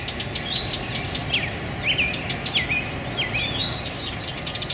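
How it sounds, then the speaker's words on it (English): A house wren in a city backyard gives a quick series of sharp, high chirps and chattering trills, close and clear over low steady background rumble. "Female house wrens are back."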